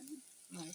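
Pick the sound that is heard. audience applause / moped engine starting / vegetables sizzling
vegetables sizzling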